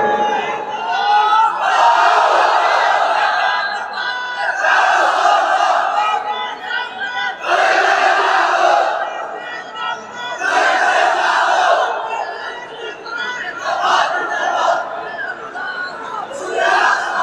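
A huge crowd at an outdoor Islamic sermon in Raipur chants the takbir, repeated loud waves of massed voices roaring in unison with short pauses and murmuring between the calls.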